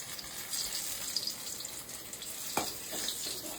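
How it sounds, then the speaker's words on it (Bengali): Eggplant slices shallow-frying in hot oil in a home kitchen, a soft, steady sizzling hiss heard close up, with a faint clink near the middle. "এই বেগুনগুলো লাল লাল করে এই যে ভেজে নিলাম, দেখো।"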